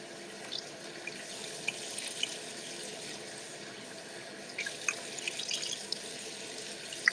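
Tap water runs steadily into a sink while a cotton powder rinse is made during a skincare routine, a constant rushing stream with a few faint drips and clinks, no one speaking.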